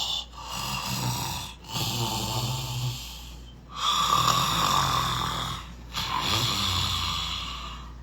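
Snoring from a husband lying in bed beside his wife at 4 a.m., a sound effect in a radio drama: a series of long, rasping snores in slow rhythm with brief pauses between breaths, close and fairly loud, with no talk.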